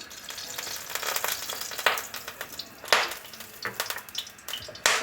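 Mustard oil hitting a hot pan, a bright crackling sizzle with sharp bursts and spatters rising and falling, close and fairly loud, no talking.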